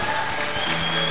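A church congregation claps steadily during an anniversary service, a brief, dense burst of applause heard at close range.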